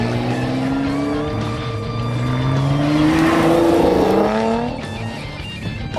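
A Lotus Evora 400 sports car is driven hard through a corner, its engine loud and close with rising and falling revs and a strained, rumbling roar, heard from inside the cabin with no talk.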